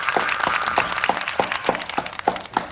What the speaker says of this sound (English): Can we give the boy a round of applause?